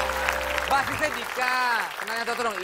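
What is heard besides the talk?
audience applause for a band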